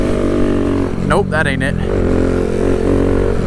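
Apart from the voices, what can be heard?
Kawasaki Z125 motorcycle engine revving during wheelie attempt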